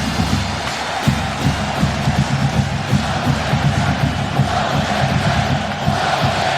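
A packed college football stadium crowd for Nebraska Cornhuskers against Virginia Tech Hokies roars steadily, a dense, loud, sustained wash of cheering with low rumbling undertones that never lets up.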